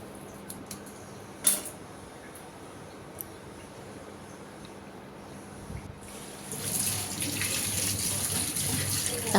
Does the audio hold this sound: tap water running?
yes